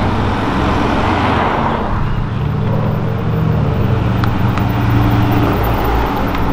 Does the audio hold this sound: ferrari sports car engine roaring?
yes